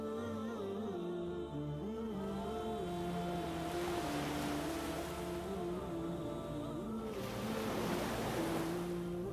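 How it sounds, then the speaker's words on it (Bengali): Calm sea waves wash onto the beach at Banshkhali, Bangladesh, on a breezy afternoon, swelling in two broad surges over a steady tonal background. "শান্ত ঢেউয়ের শব্দ, ঠান্ডা বাতাস"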